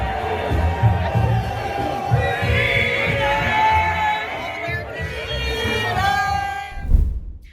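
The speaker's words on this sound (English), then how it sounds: "People are chanting "Free Tamara Lich." Look at the crowd." Large crowd at an outdoor Canada Day freedom march in downtown Ottawa chanting in unison, a steady roar of voices with rising cheers throughout, close and loud.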